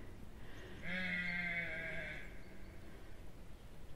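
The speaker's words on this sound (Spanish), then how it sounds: "Aquí han dormido hoy las ovejas." A single sheep gives one clear bleat lasting about a second and a half, moderately near, against a quiet outdoor background on a foggy farm.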